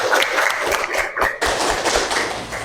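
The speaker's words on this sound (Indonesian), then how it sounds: "tepuk tangan buat teman kita" Classroom of students applauding a classmate, a close, dense patter of irregular hand claps and taps continuing throughout with a brief dip midway.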